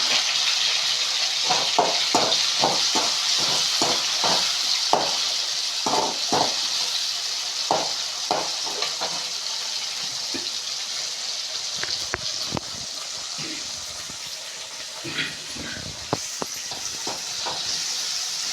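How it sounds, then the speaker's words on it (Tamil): Tomatoes frying in a pan for a beans poriyal, a constant sizzling hiss broken by a run of quick scraping and stirring knocks from a utensil, fairly close and with no voices. "தக்காளியை போட்டு வதக்கிக்கலாம்."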